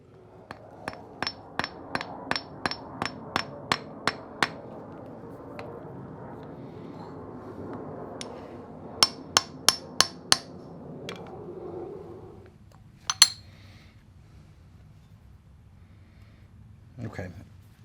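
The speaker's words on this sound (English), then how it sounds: "I'm just kind of hammering down on the sides of each one of the laminations so that they get a little bit better grip on that" Hammer strikes on stator laminations held in a K.O. Lee 2060 spin fixture: a rapid run of about ten sharp metallic taps, a pause, then another quick burst of five, with a louder clang and a dull knock later over low shop hum.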